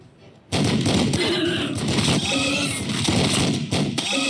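Warhammer 40K Battlesector units open fire in a loud, continuous barrage of heavy weapons and explosions that starts abruptly and rolls on without pause, dense and close.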